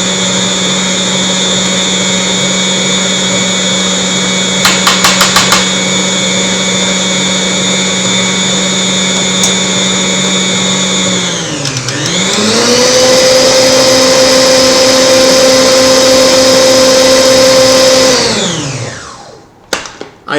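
Electric mixer running steadily in a bowl of dough ingredients for Vasilopita, a Greek New Year's pie, with a constant motor whine that dips as the speed changes, climbs again, then winds down and stops near the end.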